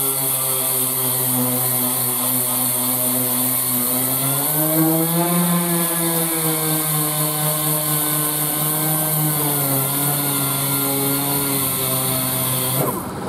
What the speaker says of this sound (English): if you're going to use a palm sander like this, always try and angle the sander onto one kind of a radius.